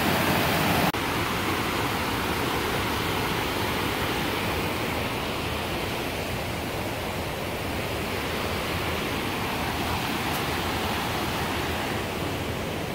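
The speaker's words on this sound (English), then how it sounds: "You guys can hear the water sound. It's quite loud." The waterfall at Saunders Springs roars as a loud, steady rush of falling water, close and continuous, with no other sounds above it.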